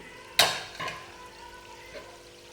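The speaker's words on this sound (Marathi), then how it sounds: "मी असे झाऱ्यात घेऊनच गुलाबजाम सोडते बघू शकताय तुम्ही" Gulab jamun lowered from a slotted spoon into hot oil over a medium flame, with one sharp splash-sizzle near the start, a smaller second burst, then a low ongoing bubbling crackle.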